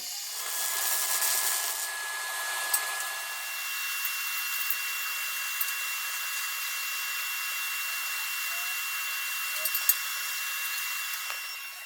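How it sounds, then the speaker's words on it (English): A drill bores holes in a home-built chassis build jig for a Mk2 Ford Escort, giving a steady, bright whirring grind that runs unbroken for about twelve seconds with a few small clicks along the way. "we're going to drill some holes in this machine"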